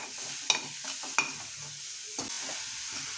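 A spoon scraping and stirring jaggery into roasted coconut filling in a pan, a few sharp scrapes and taps over a faint, steady sizzle, close and unhurried, no talking.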